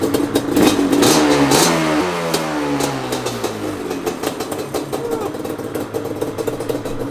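A two-stroke Banshee engine barks to life and revs, with loud rising and falling bursts of throttle over a buzzy idle that settles into a rough, crackling run.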